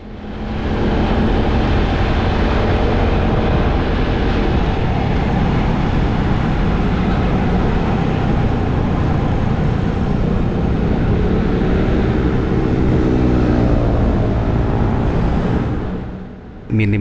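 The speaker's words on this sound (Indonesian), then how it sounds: "Benar-benar di sini cuma ketangkap suara ambience-nya itu ya cuma mobil dan motor sekitar" Steady street traffic ambience of passing cars and motorbikes, captured by a GoPro Hero 9's built-in microphone with auto wind reduction, forming a continuous broadband rumble that stays loud and even throughout.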